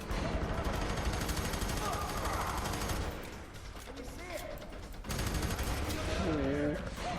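Rapid gunfire bursts from the F.E.A.R. 3 co-op shooter game, dense and continuous with brief lulls, under excited talk from players.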